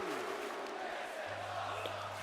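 Wrestling crowd in a WWE video game's Universe Mode main event roars as a steady, dense wash of cheering, fairly faint and continuous throughout.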